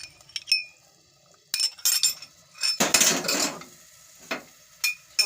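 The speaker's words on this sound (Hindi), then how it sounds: "हमारा जो प्याला था वो गिर चुका" A bowl falls in a home kitchen during chicken white karahi cooking: a few light clinks, then a loud, dense clattering crash of crockery, followed by scattered glassy clinks that fade out.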